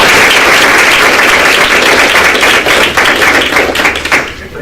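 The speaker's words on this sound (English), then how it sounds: "I think we need to give these students and teachers a round of applause" Sustained applause fills a school board meeting room as the audience claps for students and teachers, dense and steady before thinning out near the end.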